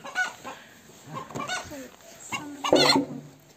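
Hens cluck on a village farm in Karabük, Turkey, several short uneven clucks and a louder squawk near the end, close by, with people talking faintly around them.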